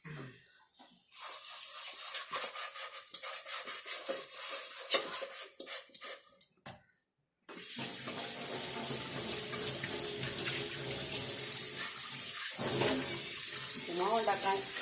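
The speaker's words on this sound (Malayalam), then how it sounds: "പാത്രം കഴുകിക്കൊണ്ട് കുറേ പാത്രം കഴുകി" Dishes washed under a running kitchen tap: a steady near gush of water with rubbing and clinking, broken by a short silence, then the flow resumes louder and continuous for several seconds.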